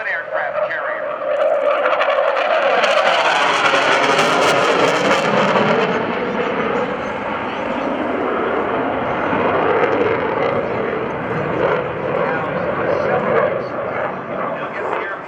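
An F/A-18C Hornet jet roars past during a carrier break at the NAS Oceana airshow, a loud sustained jet rumble sweeping through, with an announcer talking over it.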